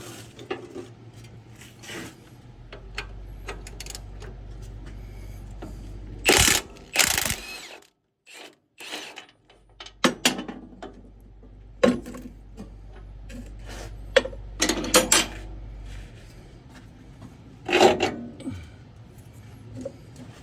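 A socket wrench on a short extension works a strut bolt loose on a 2013 Ford F150 4x4's front suspension, with bursts of ratcheting clicks, clanks and metallic scrapes between pauses and a low background hum.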